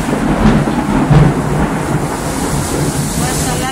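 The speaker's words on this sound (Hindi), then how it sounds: "बहुत ज़्यादा तेज़ बारिश हो रही है" Very heavy rain pours down in a storm in the USA, a loud, dense, unbroken roar close by that holds steady throughout.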